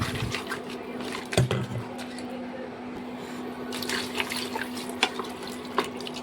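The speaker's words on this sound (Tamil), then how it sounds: "இனி தண்ணி விட்டுக்கலாம்" Water being poured into a cooking pot of cut crab pieces, a steady splashing, running sound with a few louder clunks of the pot, close and alone with no talking.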